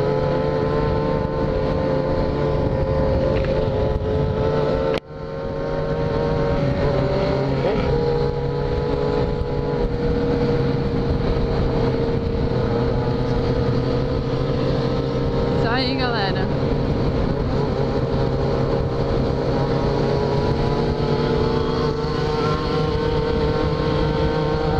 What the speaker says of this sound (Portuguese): Olha quanta moto!